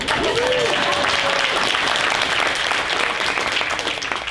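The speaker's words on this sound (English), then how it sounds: "Clap for yourself." Dense, steady audience applause at a university alumni breakfast during family weekend, full and continuous throughout, with a brief voice at the start.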